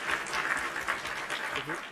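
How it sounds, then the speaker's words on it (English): Applause for Morgan, a crew member, during an anniversary podcast: a short, steady patter of clapping at moderate level, with some talk mixed in. "So big applause to him."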